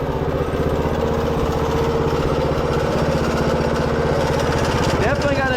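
A minibike fitted with a swapped-in 212cc 6.5HP engine runs loud and steady close by, its rough engine drone rising briefly in pitch near the end.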